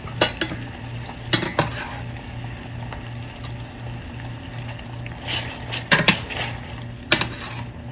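Pasta a limoni noodles tossed in a pan with starchy pasta water, giving irregular clinks and scrapes of a utensil against the pan in several sharp bursts over a steady low hum.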